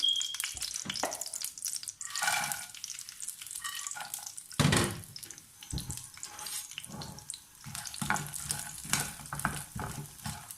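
Desi ghee sizzles in a pan while makhana and gond are roasted for laddu, with soft crackling, scraping and stirring clatter up close, uneven and intermittent throughout.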